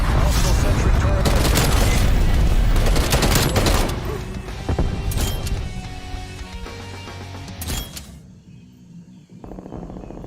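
Gunfire bursts and a heavy cruise missile strike boom loudly in Call of Duty Warzone, with dense rapid shots and blasts up front that thin out into scattered distant pops and rumble.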